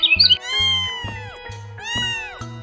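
A kitten meows several times in drawn-out, rising and falling cries, close and loud over a soft repeating low background beat.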